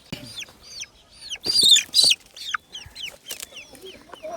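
Several chickens cluck in short, repeated bursts at close range outdoors, with a couple of louder, sharper calls midway and no talk over them.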